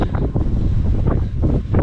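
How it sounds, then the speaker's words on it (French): Gusting wind buffets the microphone in rough, uneven bursts, loud and close, with no other sounds standing out, at night in the Ardelot forest on the GR120 trail. "Et le vent."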